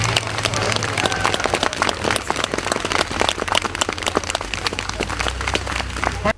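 Spectators at a riot police demonstration of detention skills break into dense, loud applause, many hands clapping continuously and close, with a faint voice in the background.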